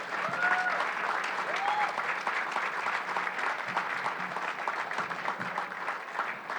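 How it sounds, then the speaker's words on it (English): An audience at the Jaipur Literature Festival 2020 Ojas Art Award applauds artists onto the stage: dense, steady clapping throughout, with a faint voice underneath. "with a huge round of applause, help me welcome to the stage Bhajju Shyam, Mayur Vaeda, and Tushar Vaeda."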